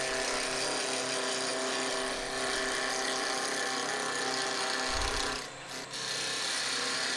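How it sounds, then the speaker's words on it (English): A 3/8 bowl gouge roughing a segmented pen blank on a spinning lathe: a continuous loud, bright scraping hiss of cutting over the machine's hum, briefly easing near the end. "I'm going to use a 3/8 bowl gouge to do a lot of my roughing and initial"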